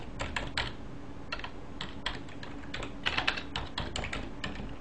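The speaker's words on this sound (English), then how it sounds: "If I'm typing something" Keystrokes on a computer keyboard in bursts of quick, irregular clicks with short pauses, close and moderately quiet over a faint steady hum; no talking.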